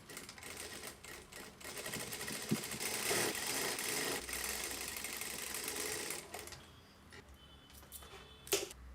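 Sewing machine running steadily as it stitches a princess-seam boat-neck blouse, a close, fast mechanical whirr that slows near the end and is followed by a few clicks.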